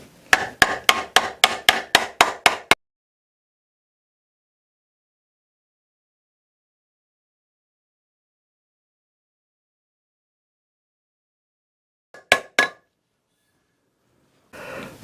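Sharp hammer blows strike metal held in a vise while a T-fold is formed on a chuck tip for a cuff or bracelet: a fast run of about ten ringing strikes, a long silence, then a few more taps.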